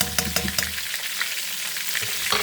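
Fresh garlic sautéing with pork in a dry pan, giving a continuous loud sizzle with a few scraping stirs near the start.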